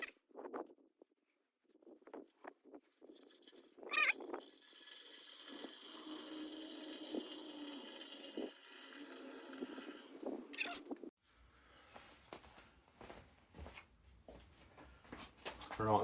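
Fuel is poured through a bag filter in a steady, trickling stream for several seconds, then tapers off, with clinks and handling noises around it, drained from an Austin A30/A35 fuel tank.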